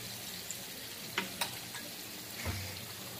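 Spices frying in a pan for kachori filling, a steady soft sizzle with a few light scrapes as they are stirred, no voices.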